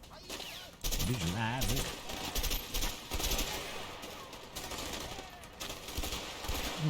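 Bursts of gunfire crackle in the video game A Way Out, rapid shots and volleys ringing out repeatedly with people talking over them.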